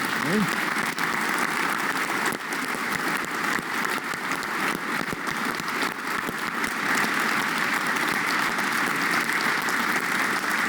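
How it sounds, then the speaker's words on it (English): Dinner audience at an annual community banquet applauding an honoree, sustained dense clapping filling the room at steady loudness throughout, with a few voices faintly mixed in. "Let's applaud for Mark Greenhall."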